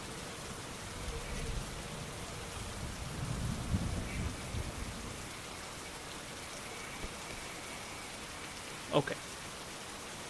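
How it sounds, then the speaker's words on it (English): Steady rain falls through the whole stretch, with low rumbling of thunder in the early part and a brief sharp crackle near the end; a voice speaks one short word. "you guys can listen to rain. Who doesn't like raining? And a little thunder every now and then."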